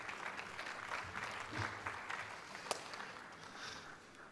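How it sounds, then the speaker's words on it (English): An audience at a university health sciences research conclave claps, a steady patter of many hands that swells slightly and then starts to fade, moderately distant in the hall. "So please give a big round of applause to Professor Anita Saxena, please."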